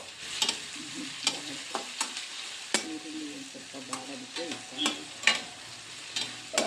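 Onions and salt stirred in a frying pan for an eggplant palya, with irregular spoon scrapes and clacks against the pan over a soft, constant sizzle.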